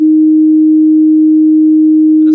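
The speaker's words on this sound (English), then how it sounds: "let's create a single sine wave. This is a sine wave." A single synthesized sine wave holds one steady, pure, loud tone without variation, ending with a brief click.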